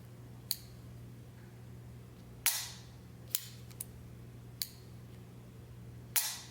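A CZ Shadow 2 pistol dry-fired with the safety off, its hammer snapping down in six sharp, isolated metallic clicks spaced irregularly over a quiet background hum.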